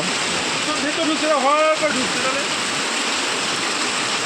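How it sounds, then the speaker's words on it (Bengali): Heavy floodwater pours down steadily in a loud, continuous rush that fills the whole clip, with a brief voice-like warble rising over it near the middle. "ধুম ধুম ধুম ধুম করে জল পড়ছে"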